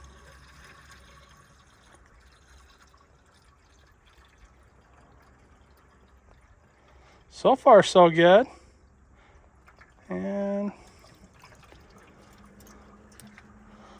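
Water from a gallon jug is poured into a toilet bowl, with a low pouring and filling sound beneath brief speech from a man in a garage.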